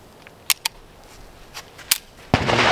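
Sharp cracks from a gun called The Cyclops, a few distinct snapping shots spaced apart, then a louder burst of broadband noise at the end.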